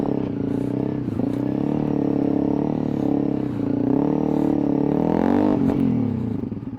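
A CF Moto 450 MT motorcycle rides off-road, its engine holding a steady, close, continuous drone with brief dips in pitch as the throttle shifts.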